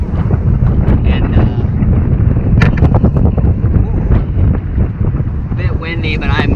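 Gusty wind buffets the microphone out on the open Mississippi River, a steady close roar of rumbling noise that runs the whole stretch, with a person breathing and talking briefly under it.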